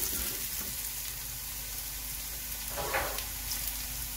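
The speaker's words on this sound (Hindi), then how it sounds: "हमारा ऑयल गर्म है, हम गार्लिक चॉप डाल रहे हैं" Chopped garlic sizzles in hot oil with a steady, even crackle and fry throughout, close and continuous, with no talking.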